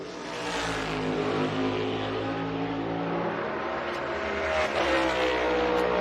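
NASCAR race car at Richmond during qualifying, its engine roaring steadily at high revs as it accelerates, with a gear shift partway through, loud and sustained with no talk.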